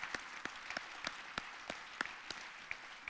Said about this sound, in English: Please give a big round of applause for our lead sponsor, Morgan Stanley Private Wealth Management.